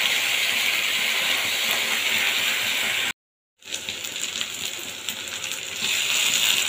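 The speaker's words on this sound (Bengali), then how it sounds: "এবার এটাকেও খুব ভালোভাবে পেঁয়াজটাকে কষিয়ে নিতে হবে" Onion, garlic and tomato paste frying in a pan, a dense hissing sizzle that runs steadily, cuts out briefly to silence, then resumes with faint stirring, close with no voices.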